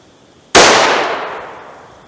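A single loud, sharp gunshot from Critical Duty 135 grain ammunition fired over a chronograph, striking suddenly and then ringing out in a long decaying tail, with no talking.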